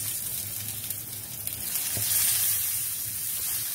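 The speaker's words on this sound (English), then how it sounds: "Saute this well so that the color of rice changes slightly and from transparent it becomes opaque" Marinated rice with cashews and raisins sautéing in a pan, a steady soft sizzle with occasional stirring scrapes and one sharp clink, moderately close and alone without talk.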